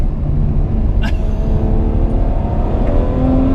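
A Ferrari 812 Superfast V12 with a revised twin-clutch gearbox is driven hard on a track, its loud, steady engine roar rising, with a sharp burst around a quick gear shift.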